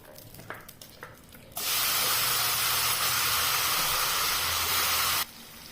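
Ground dates hit hot ghee in a kadai and sizzle loudly in a steady hiss for several seconds, then cut off abruptly, with faint clinks before the burst.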